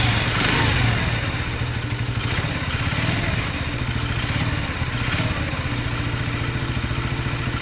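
Police motorcycle engine running steadily at idle after starting, a close, loud, rhythmic chugging with metallic clatter throughout.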